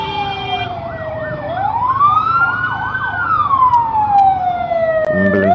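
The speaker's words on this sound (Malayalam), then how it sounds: "ambulance ambulance" An ambulance siren wails on the road, rising and falling with warbling sweeps. It sounds fairly close and loud and carries through the whole stretch, with traffic noise beneath it.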